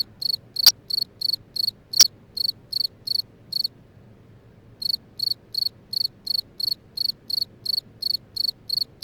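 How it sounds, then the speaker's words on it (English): Crickets chirp in rapid regular pulses, a brief pause midway, then the trilling resumes; two sharp clicks sound early on. "a million crickets rubbed their wings together and sang."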